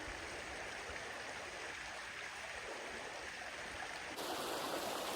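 A creek flowing through a narrow glen, a steady broadband rush of water close by that grows slightly louder near the end, with no voices.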